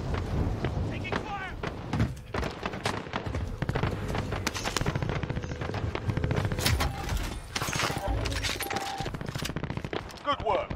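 Call of Duty Warzone gameplay with rapid bursts of automatic gunfire and scattered single shots, dense and loud throughout, while voices talk over the action.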